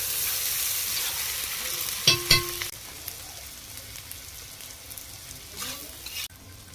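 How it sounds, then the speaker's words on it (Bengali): Taro and potato pieces fry with spices in a pan, giving a loud sizzle. A couple of sharp clattering stirs come near the start, then a quieter steady hiss continues with occasional scrapes. "এবার এতে এই যে কচু আর আলুটা নেড়ে রেখেছিলাম সেগুলো দিয়ে দিচ্ছি।"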